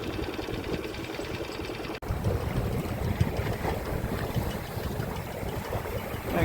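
A sailing dinghy on Lake Te Anau, New Zealand, runs its outboard motor in light wind with only the jib up, giving a steady low engine hum under wind and water noise.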